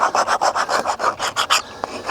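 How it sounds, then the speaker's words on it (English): Sandpaper rubs along the edge of a wooden fence post in a garden, rounding it off in about a dozen quick rhythmic rasping strokes, close and clear, with no talking. "that's just sanding the edge there to round it off a bit"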